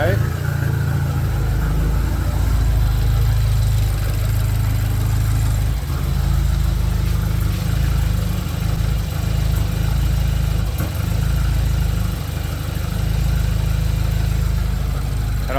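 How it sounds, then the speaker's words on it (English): A rebuilt BMW N20 engine, tuned for over 800 horsepower, idles steadily in a car just after its first start, with a deep constant rumble and low hum that stay loud and even throughout. "Engine's running super smooth."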